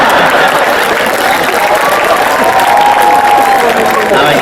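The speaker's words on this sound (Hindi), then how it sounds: "एक बार तालियां बजाएं।" Audience at a Hindi comic poetry recital breaking into sustained, loud applause that fills the space evenly throughout, dense clapping with some cheering mixed in.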